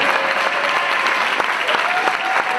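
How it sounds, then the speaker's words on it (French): Enthusiastic crowd applause for Francky Vincent at a tribute event, thick continuous clapping with a few sharper individual claps and a cheer or whistle near the end. "Veuillez applaudir très fort le boss"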